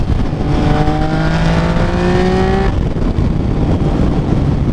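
A motorcycle engine revs while riding on the road, its pitch climbing steadily for a couple of seconds before the throttle eases off, leaving a constant rush of wind noise.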